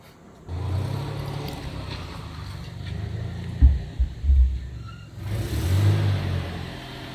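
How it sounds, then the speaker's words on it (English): A truck revs its engine on a street, a loud low rumble that swells, dips with a few sharp bumps, then rises again near the end, with no talk over it. "Just revving his engine right here on purpose."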